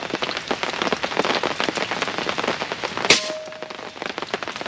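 Heavy rain pattering densely on surfaces outdoors during an airgun shooting session, a constant close crackle of drops with one sharp metallic clang partway through.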